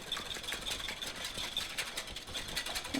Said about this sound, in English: I'm just going to take a wire whisk and I'm just going to break up the egg whites